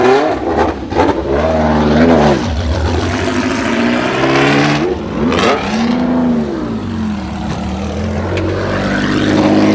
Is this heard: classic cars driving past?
yes